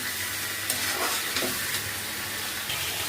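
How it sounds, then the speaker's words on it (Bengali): Fish pieces sizzle and sear in oil in a pan for muri ghonto, a steady crackling fry with a couple of soft stirring sounds and no voices. "এখন আমি মাছগুলো সুন্দর করে কষিয়ে নেব"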